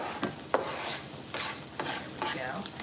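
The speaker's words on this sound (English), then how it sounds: "So I'm gonna throw in my peppers and let them saute up." Bell peppers hitting a pan of translucent onions in bacon grease and sun-dried tomato oil, a steady sizzle broken by several scraping stirs of the spoon, close and without talk.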